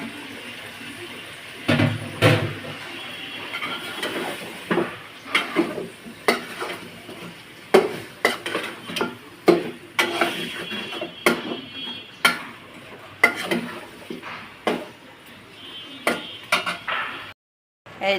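Potatoes sautéed and stirred in a pan while cooking a curry, with repeated scraping and clattering strokes of a utensil against the pan over a steady low sizzle, close and moderately loud.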